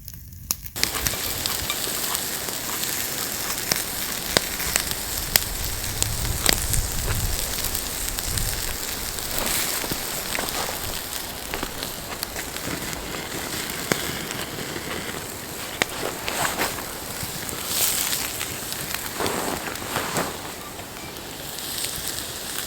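A pork chop sizzles and crackles over an open campfire in cold winter conditions, a dense, continuous frying hiss with scattered pops throughout.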